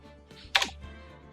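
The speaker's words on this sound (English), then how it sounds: "I apologize if my keyboard is too loud or you can hear my keyboard." A computer keyboard tapped during an Ace Attorney Trilogy gaming session gives a quick, quiet cluster of key clicks midway, with no talking around it.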